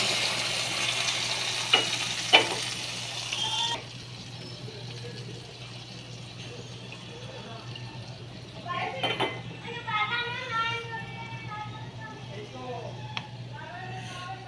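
Spices frying in a pan for a home-cooked dish, a steady hiss and sizzle over the first few seconds with light clinks of utensils, then quieter cooking as a voice talks over it.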